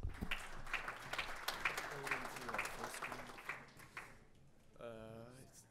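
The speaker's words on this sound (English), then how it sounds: "So let's give a round of applause for the speaker." Audience at a tech conference on Spark web applications claps after a talk, a moderate patter of applause mixed with chatter, fading out as a single voice speaks near the end.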